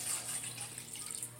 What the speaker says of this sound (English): I'm going to add my water.